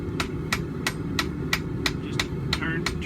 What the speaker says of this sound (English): Just turning my piece as I hammer so I can blend all this together.